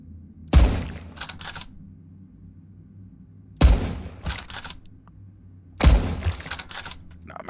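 Three loud, close gunshots ring out in the survival game Mist Survival, each a single heavy blast followed by brief rattling, spaced evenly a few seconds apart.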